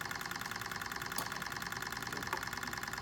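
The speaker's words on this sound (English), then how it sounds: "Okay, this is our alpha style Stirling engine." An alpha-style Stirling engine with glass tubes and 3D-printed parts runs with a steady, fast mechanical ticking and rattling, an even rhythm heard close up with no voices.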